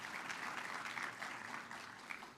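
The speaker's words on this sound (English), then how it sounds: "I got more than one clap, so that was good." Light audience applause at a nutrition event follows a thank-you, a faint, even patter of clapping heard at a distance with no voices over it.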